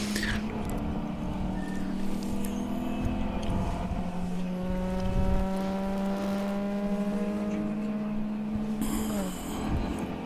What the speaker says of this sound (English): I think it's from the in-car camera here.